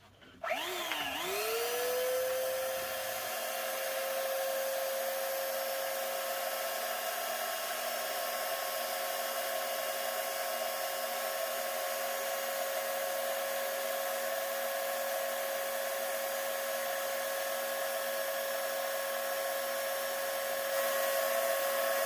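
A Harbor Freight Warrior 3x21 inch belt sander starts up and its motor then runs steadily. The whine is loud, even and continuous, close by, with no talking over it.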